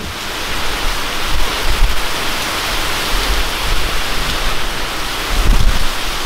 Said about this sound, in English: I think that's the hardest I've ever seen it rain.